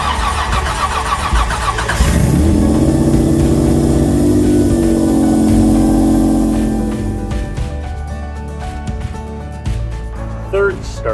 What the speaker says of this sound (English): first fire up of a EZ30D H6 Subaru conversion in my 85 Vanagon